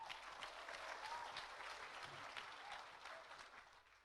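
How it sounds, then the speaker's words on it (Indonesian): A church congregation claps together after the worship team, a steady, fairly soft round of applause in a large hall that tapers off near the end. "Kita beri tepuk tangan."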